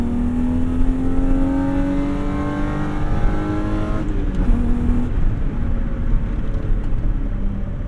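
A BMW E30 with a swapped-in S52 engine pulls hard through the gears, its loud exhaust rising in pitch, then a shift and a continued rumbling climb, heard from inside the car.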